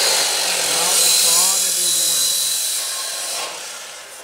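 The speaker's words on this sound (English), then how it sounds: "we're gonna cut both at the same time. That way we can be done with the saw." A saw cuts through two metal ladder racks at once, a loud, close, hissing grind that holds steady and then tapers off, with a voice briefly mixed in.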